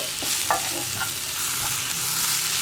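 Tomatoes stirred and frying in a pan for a Kerala-style mushroom pepper roast, a steady bright sizzle with a few scraping spoon strokes, close and continuous, no talking.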